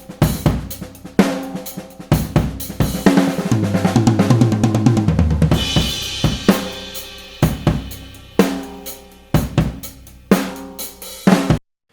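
A rock band plays, with punchy kick drum hits close and prominent; near the end the full mix drops away and isolated kick thuds through two close microphones in front of the drum repeat in a steady beat.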